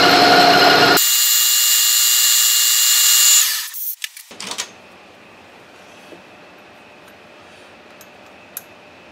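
A metal lathe takes the final cut on a Hemingway Kit spherical ball turner, giving a loud, steady machining whine that stops abruptly partway through, followed by the motor spinning down and a few soft clunks in a quiet shop.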